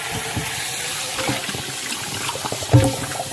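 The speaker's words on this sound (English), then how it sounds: "I'm refilling it with clean water" Tap water runs steadily into a cast iron pan as it is refilled, with a brief louder splash near the end and no talking.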